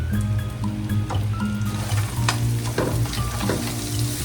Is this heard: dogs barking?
no